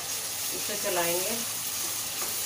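Onions, with garlic, ginger, cumin seed and asafoetida, stirred as they fry in hot oil in a pan: a steady close sizzle with soft scraping stir strokes, alone, no talk.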